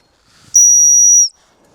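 A gundog training whistle gives one steady, shrill, high tone lasting under a second, loud and clear against an otherwise quiet background.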